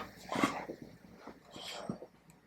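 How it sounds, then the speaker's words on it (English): A dog barks on command during obedience trick training, giving two short, faint yelping barks about a second apart over quiet room noise, with no speech. "when I say talk to me, he has to bark"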